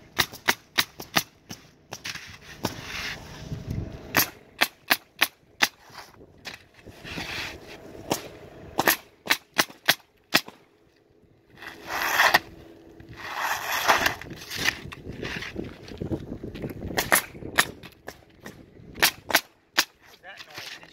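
A pneumatic nail gun fires nails on a one-day job, giving sharp, loud cracks in irregular bursts that are sometimes spaced and sometimes in quick runs, with bursts of compressor air and work noise between them.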